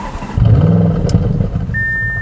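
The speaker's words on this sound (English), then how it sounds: "The 2018 Audi S6 is the last S6 to get a V8 engine." A 2018 Audi S6 V8 exhaust gives a steady, deep engine rumble that swells slightly, with a brief electronic beep near the end and no talking.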